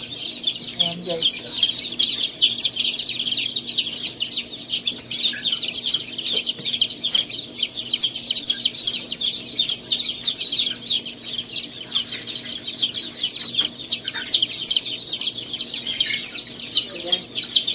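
Newly hatched chicks peeping inside an incubator during harvest, a dense, continuous chorus of high, shrill cheeps that overlap steadily throughout, close and fairly loud.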